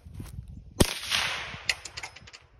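A PSA Rock pistol fires a single sharp, loud shot, followed by the metallic clatter and tinkling of a spent casing bouncing on a hard surface, with faint handling noise before and after.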